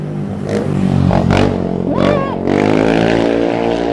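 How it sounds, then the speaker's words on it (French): Loud motorcycle passing by close on a street near a train station in Japan, engine roar swelling and revving over a few seconds with a steady rumble, while a voice speaks briefly. "Il y en a un qui fait bien du bruit avec sa moto."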